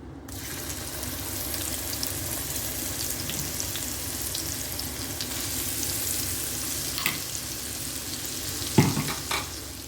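Ginger garlic paste sizzles steadily in hot oil for a prawn pickle, a dense continuous crackle with occasional louder spoon scrapes near the end, close and alone without voices.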